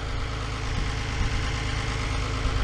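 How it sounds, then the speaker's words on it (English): A farm tractor idles nearby with a steady low rumble and faint vibration, running alone without talk during hay raking and round baling work. "This is his tractor."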